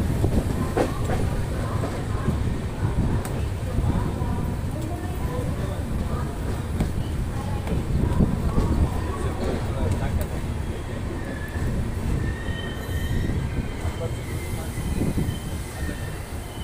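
The Udyan Express runs on rails with a steady rumbling roar and rhythmic wheel clatter heard from inside the carriage, while faint voices murmur beneath it throughout.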